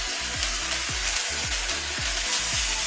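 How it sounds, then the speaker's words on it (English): Potatoes and carrots frying in hot oil for corned beef hash, a steady close sizzle with repeated low thumps as they are stirred around the pan. "Give these a very quick stir around in hot oil. A very quick fry if you like."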